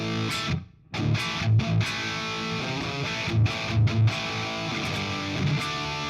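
A distorted electric guitar plays alone through an amp simulator, with strummed chords and short bursts that ring out under a gritty, amp-like crunch.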